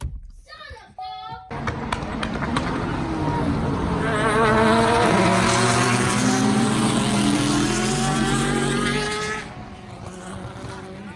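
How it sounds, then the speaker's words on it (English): A 6th-generation Chevy Camaro engine cranks and fires up after a brief voice, then revs into a loud, rising roar before settling back toward idle. "I love this startup."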